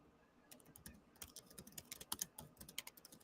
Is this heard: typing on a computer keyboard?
yes